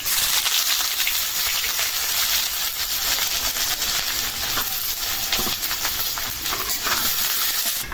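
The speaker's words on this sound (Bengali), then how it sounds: "এখন দিয়ে দিব পেঁয়াজ" Onions hit hot pure mustard oil in a wok along with a bay leaf and dried chillies, giving a steady loud hiss and sizzle that runs unbroken and alone.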